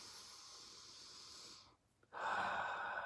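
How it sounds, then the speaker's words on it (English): Breath pushed out into a face mask makes a steady muffled hiss, then stops for a short pause, followed by a louder rush of air as the breathing resumes, heard close and alone. "I'm breathing fully out into this mask, all of my CO2 out in here, and then I'm breathing in through my nose"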